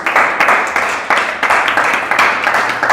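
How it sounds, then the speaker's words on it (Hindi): Loud, sustained applause from a hypnosis demonstration audience, dense clapping filling the room with steady surges and no voices over it. "तो मैं चाहूंगा इन सभी लोगों के लिए जोरदार ताली हो जाए।"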